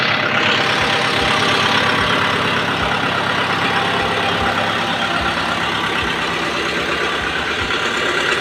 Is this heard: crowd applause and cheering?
no